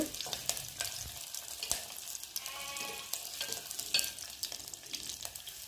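Chopped garlic and curry leaves fry in a tempering of hot oil, a crisp sizzle punctuated by repeated sharp stirring scrapes and a brief squeaky whine from the spoon or pan.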